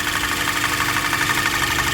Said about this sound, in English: There's a little ticking going on, and a little ticking.